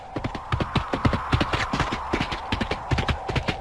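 Horse hooves clip-clop in a quick, steady trot, a close, crisp sound effect of hoofbeats on hard ground repeating throughout with no voices over it.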